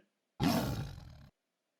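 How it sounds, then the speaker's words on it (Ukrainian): A single tiger roars once, a loud, close, rough growl that starts abruptly, holds for nearly a second and cuts off into silence. "Так кричить тигр."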